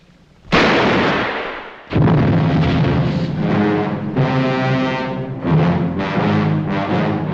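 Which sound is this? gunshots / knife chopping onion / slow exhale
gunshots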